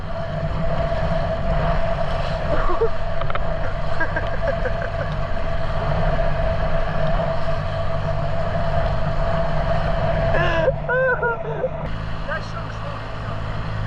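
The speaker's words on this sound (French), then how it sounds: "Il y a des vagues et il y a du vent." Steady wind rushes over open sea with waves, a constant low rumble, while voices talk intermittently in French over the continuous noise.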